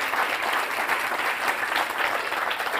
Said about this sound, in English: I'll give yourselves a round of applause if you saw your tweet up there.